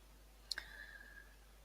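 One faint, sharp computer mouse click in a quiet room, a short single tick over a low steady hum.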